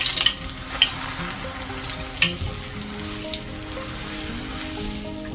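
Trini doubles dough fries in hot oil on a stove, a close, continuous crackling sizzle with scattered bright pops throughout and no talk.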